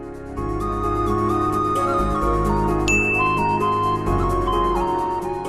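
A bright, tinkling electronic ringtone melody plays loudly and continuously, with chiming tones repeating throughout.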